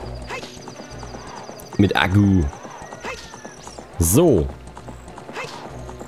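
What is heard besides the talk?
horse Epona neighing and trotting, Zelda Ocarina of Time video game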